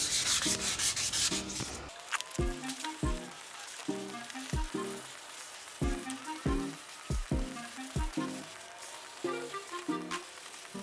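A repaired fiberglass car bumper is sanded smooth by hand in rhythmic back-and-forth strokes, a close, gritty rasp in steady bursts, with a short louder stretch of sanding at the start.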